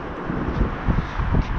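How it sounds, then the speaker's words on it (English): Gusty wind buffets the microphone with a low, rumbling roar that swells and eases in uneven bursts. "But you still have some wind gusts left over from the storm we had yesterday."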